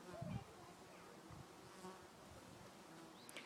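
Steady buzzing of many bees fills the air at a low, even level, with a brief louder thump near the start.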